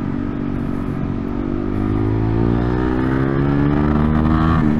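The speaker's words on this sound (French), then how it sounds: "J'adore ce bruit de 450 comme ça" Honda CRF 450 supermotard engine revving hard on a track at Aragon, a loud, close single-cylinder roar whose pitch climbs steadily as the throttle opens, sustained without break.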